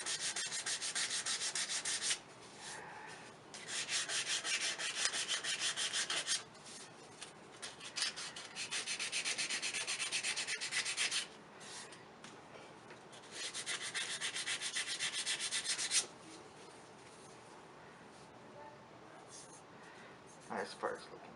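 Sandpaper is rubbed over a wooden ring dish in repeated close, raspy strokes. The bursts run several seconds each, with brief pauses between them.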